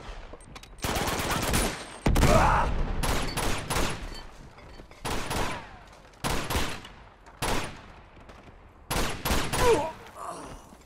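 Gunfire in Uncharted: The Nathan Drake Collection comes as repeated loud bursts and clustered rapid shots, separated by short pauses across the scene.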